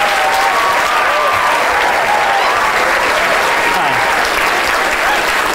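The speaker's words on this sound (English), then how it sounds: "Big round of applause." An audience bursts into loud, dense clapping for volunteers called up from a row of seats, continuous and even throughout, with some cheering mixed in.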